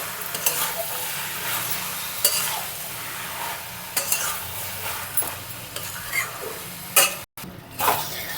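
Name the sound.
cabbage curry with fish head cooking covered in pan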